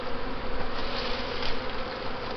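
Honeybees building comb on new foundation in a hive: a loud, unbroken buzzing drone from a mass of bees up close, with a slightly pulsing intensity and no speech.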